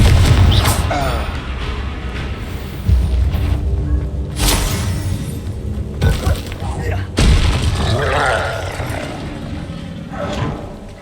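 Blasting spell explosions in Hogwarts Legacy, several loud booming blasts at irregular intervals during a duel, mixed with other combat effects and spoken spell voices.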